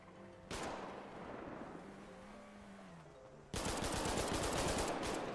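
Gunfire in GTA 5: a sudden burst of shots, then a long stretch of rapid automatic fire that grows louder and more intense toward the end.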